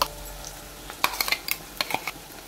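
Ginger, green chili and garlic paste hitting frying onions in a pan, with faint sizzle under a scatter of sharp clinks and scrapes from stirring, no speech.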